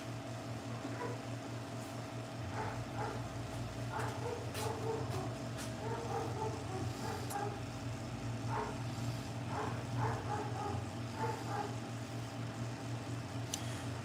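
A dog barks in short, scattered bursts, somewhat distant, over a steady indoor machine hum in a shop where pet grooming shears are sharpened.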